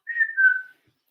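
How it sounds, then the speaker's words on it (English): A person whistles one short, clear two-part note that slides slightly downward, close and alone against silence. "I like to whistle. Give a little whistle."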